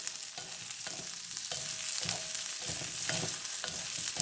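Ingredients for a fish curry frying in a pan, a steady low sizzle broken by repeated spatula scrapes and knocks every half second or so, close up with no voices.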